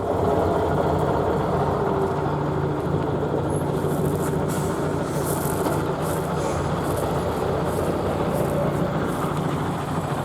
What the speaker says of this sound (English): listen to the Scania sound